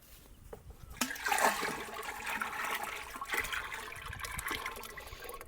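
Jeevamrutham, a mixed liquid fertilizer, is poured from one container into another. After a quiet second it becomes a continuous gushing, splashing flow that holds steady to the end.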